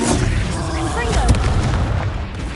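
A Confringo blasting spell explodes in the video game Hogwarts Legacy, a loud booming blast with rumbling low roar amid busy, continuous combat noise.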